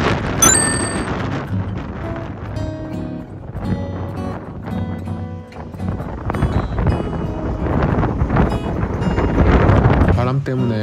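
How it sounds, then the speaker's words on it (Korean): Strong gusting wind on Chujado island while a tent is pitched, roaring and buffeting loudly against the microphone without pause, rising in force toward the end. "바람 때문에 텐트 치느라 혼났습니다"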